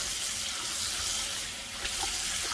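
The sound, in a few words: washing beef tripe with running water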